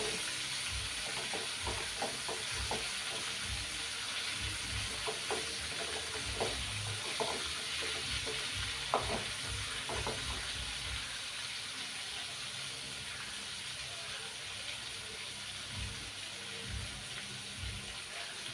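Fish shallow-frying in a pan crackles and hisses at a steady, fairly quiet level, with scattered small pops and spits over a constant sizzle and no talking.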